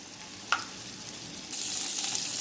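Butter in a pan for lachha paratha gives a soft, steady sizzle with one brief clink early on, then the frying grows brighter and louder partway through, close and with no talk.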